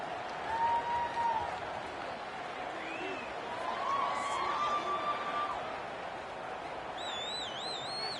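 A stadium crowd in an NCAA football video game keeps up a sustained roar of applause and cheering, with scattered whistles and shouts rising and falling across the stands.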